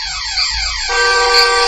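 A car horn blares after a crash in a dramatized story sound effect: a few sweeping, siren-like tones give way to a loud, steady, continuous blare with no voices.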